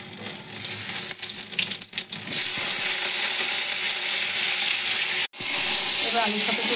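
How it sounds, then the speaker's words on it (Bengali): Potatoes frying in a kadai of hot oil tempered with cumin, dried red chilli and bay leaf, a loud, continuous close sizzle that stays steady throughout, broken by one brief dropout. "আলুগুলো ভেজে নেব।"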